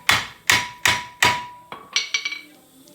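Four loud, evenly spaced hammer whacks on a seized front brake rotor of a 2005 Volkswagen Jetta TDI, followed by a few lighter, quicker metallic taps that ring briefly and die away.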